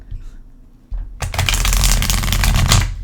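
A deck of tarot cards is riffle-shuffled close to the microphone, producing a loud, rapid fluttering burst that runs for about two seconds after a few quieter handling sounds.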